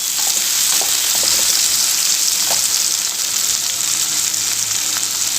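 Tomatoes sauté in an oil-filled pan for a white egg kurma, giving a steady, loud broadband sizzle throughout with a few faint spatter pops and no talking.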